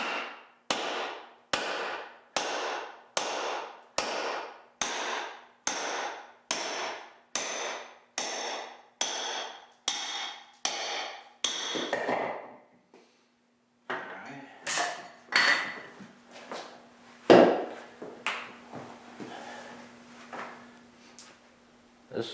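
A hammer strikes wood in a steady series of sharp blows, about fifteen evenly spaced, then a few scattered knocks and cracks as the piece splits.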